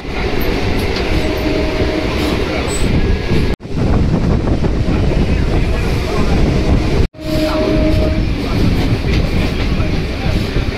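Kolkata circular rail train running toward Prinsep Ghat station near the Second Hooghly Bridge, a loud continuous rumble and rattle with wind buffeting heard from onboard, broken by two brief dropouts.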